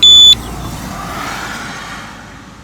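A brake disc lock's loud electronic alarm tone sounds for a moment, then cuts off, leaving a steady low rumble of traffic and wind.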